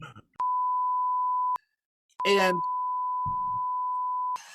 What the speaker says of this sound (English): I love the beeps.